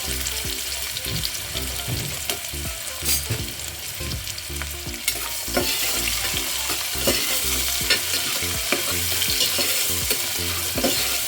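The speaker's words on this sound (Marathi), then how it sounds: "आणि कांदा चांगला ब्राऊन होईपर्यंत आपल्याला भाजून घ्यायचा." Onion frying in a pan until brown, a steady sizzle with repeated scraping stirs of a spoon against the pan, close and continuous for several seconds.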